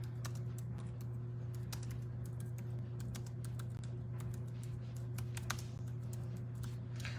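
Fingers type steadily on a computer keyboard, a close run of quick, uneven clicks over a constant low hum, with no talking.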